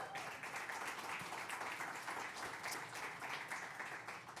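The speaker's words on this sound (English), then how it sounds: "That deserves some applause" Audience applause at a closing ceremony for a tech program, a steady wash of many hands clapping that holds evenly throughout at a moderate, somewhat distant level.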